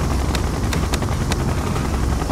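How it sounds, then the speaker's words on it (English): A siege chopper helicopter in the video game Red Alert 2 gives a continuous loud rotor drone with a few sharp clicks over the top, close and steady throughout. "Siege chopper, checking in."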